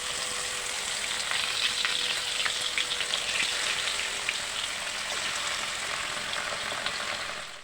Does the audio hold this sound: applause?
no